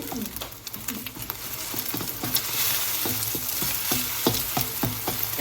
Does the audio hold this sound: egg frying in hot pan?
yes